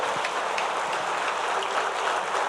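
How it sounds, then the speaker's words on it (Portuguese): A church congregation claps hard during a worship service, a dense, steady wash of applause with no pauses, heard from within the room. "Aplauda bem forte ao Senhor."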